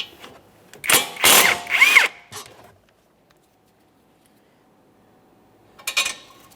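A 17mm caliper bolt being removed on a 2014-2019 Toyota Corolla, with a couple of short, loud bursts of a power tool whirring, a pause of silence, then one more brief burst.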